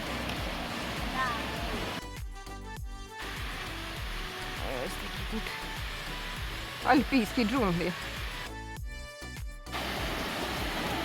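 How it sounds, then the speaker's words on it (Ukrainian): A mountain waterfall roars as a steady broadband rush on a hike in the mountains with children, continuous throughout while people talk nearby. "Ось такий от водоспад"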